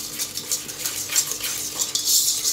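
Dough for savory and sweet pastries made with a glass of buttermilk is mixed with a utensil in a bowl, giving a continuous close wet scraping and clinking texture with no talking.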